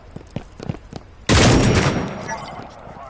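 Gunfire erupts in a shooting video game: a loud, sudden burst of rapid shots that rings out and slowly decays, following a few seconds of quiet speech and soft thumps.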